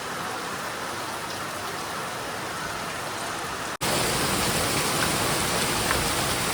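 Heavy rain pouring down at a campsite with tents near Mumbai, a dense, steady hiss that suddenly jumps louder partway through and stays constant, with no voices.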